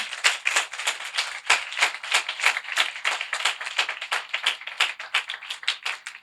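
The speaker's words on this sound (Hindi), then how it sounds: "तालियां जरा अच्छी सी बजाएं।" A church congregation claps in a quick, fairly regular rhythm, the sharp hand claps close and distinct, continuing steadily with no talk over them.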